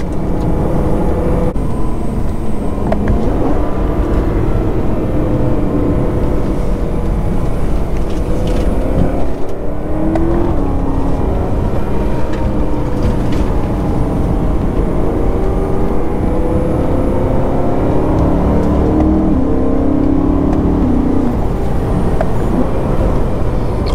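A supercharged 2011 BMW E90 M3 engine roars continuously at high volume, revving and shifting as the car drives along a back road.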